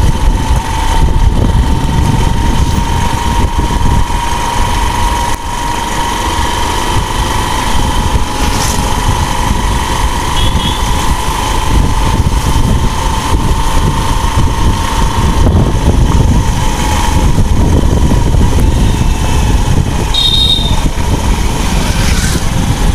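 A motorbike engine running steadily on a city street near a crossroads in India, a continuous mid-pitched drone with traffic noise around it, fairly loud and unbroken throughout.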